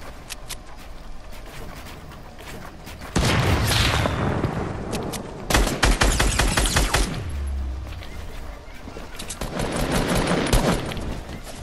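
Gunfire in a PS4 video game, with bursts of rapid shots and booms that come in loud waves around a quieter stretch, set against a steady background of game noise.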